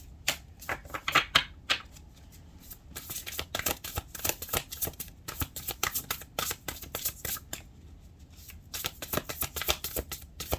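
Tarot cards are spilled and shuffled across a table, making crisp riffling and sliding flutters in uneven bursts, close and fairly quiet, with no voices.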